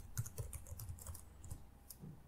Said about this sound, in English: now we can type show collections